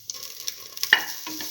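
Fennel seeds and red chili dropped into hot oil in a pan sizzle and crackle up close, with a few sharp pops and a clatter of the pan or utensil, loud over a brief hissing tail and no talking.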